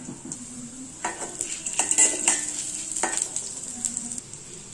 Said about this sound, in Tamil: முதல்ல கடலைப்பருப்பு கொட்டிக்கலாம்.